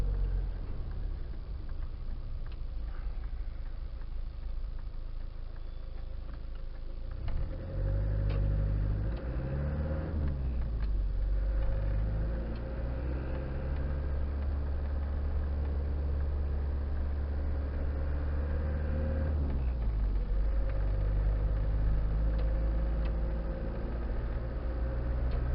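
Diesel engine of a Land Rover Discovery 300tdi under load while driving, a steady loud rumble with rising turbo boost and harmonic tones shifting through gear changes, continuous with no talk.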